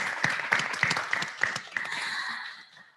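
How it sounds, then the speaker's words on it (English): Audience applause at a development forum session, beginning as scattered distinct claps and thinning into a softer, fading patter over about three seconds with no talk. "Please give another round of applause for our moderator of the day."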